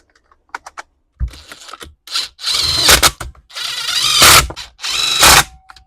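Screws being driven in to remount the head on a Stihl FS130R string trimmer, heard as a few light clicks followed by longer bursts of ratcheting, whirring fastening noise, close and loud with no talking.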